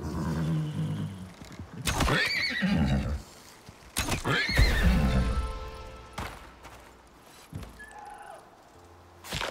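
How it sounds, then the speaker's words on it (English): Loud, close horse whinnies in the video game Icarus, two strong neighs with snorting and shuffling between them, fading to quieter movement. "So here I'm targeting this horse."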